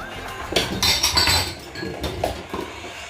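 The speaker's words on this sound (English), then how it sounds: "I need to mix the pasta again" A utensil clinks and scrapes against a pot of cooking pasta in a few quick metallic knocks and a rattle, close by and loud, then a short pause and two lighter taps.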